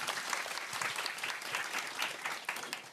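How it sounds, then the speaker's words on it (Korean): An audience at a Korean panel discussion applauds as the next presenter is welcomed, giving dense, continuous clapping that holds at a steady level for the whole stretch without voices. "박수로 맞아주세요"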